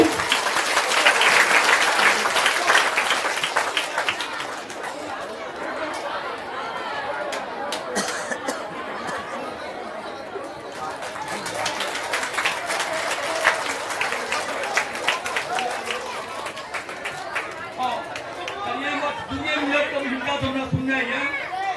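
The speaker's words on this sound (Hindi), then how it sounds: "दोस्त का ताली मारो" A village crowd at a public outreach camp claps together, loud at first and then continuing more loosely amid chatter and voices, with a speaker beginning to talk toward the end.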